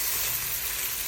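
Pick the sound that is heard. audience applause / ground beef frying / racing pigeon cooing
ground beef frying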